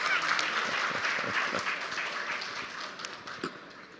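An audience claps at a televised film-industry event, a dense patter of applause that starts loud and gradually thins and fades over a few seconds.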